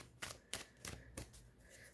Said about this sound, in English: So I'm going to have to shuffle again.